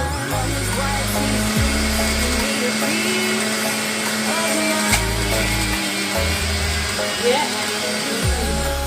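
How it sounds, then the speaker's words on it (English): A juicer whirs steadily while juicing green juice, loud and close with a pulsing low drone that cycles on and off, and a voice speaks briefly over it. "So it's juicing nicely."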